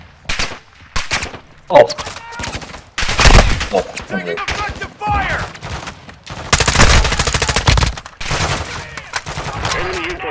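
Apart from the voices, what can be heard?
gunfire in Call of Duty Warzone DMZ video game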